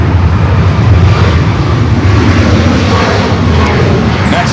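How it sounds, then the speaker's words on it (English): An ANA airliner taxiing onto taxiway Kilo at LAX gives a steady, loud engine rumble and broadband roar that holds without a break, with faint talk mixed in. "ANA making that turn on to taxiway Kilo"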